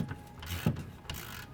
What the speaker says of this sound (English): grab our socket on a 1/2 inch drive ratchet and get this loosened up